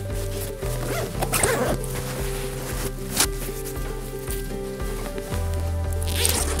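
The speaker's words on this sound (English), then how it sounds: "Zipper on the left side is perfect for swapping lenses." Zipper on the side pocket of a Lowepro Photo Active BP 300 AW camera backpack, pulled in several short, close rasping runs with brief pauses between them.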